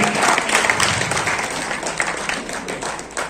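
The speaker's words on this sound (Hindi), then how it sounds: "जोरदार तालियां बजती रहनी चाहिए" A crowd applauds a new assembly president at a Samajwadi Party workers' conference in Kiratpur, with a continuous wash of clapping from many hands close and loud throughout, and a voice speaking faintly beneath it.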